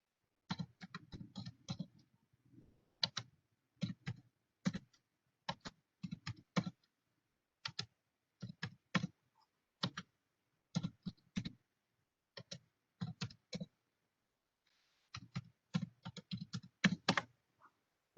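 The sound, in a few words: students typing on computer keyboards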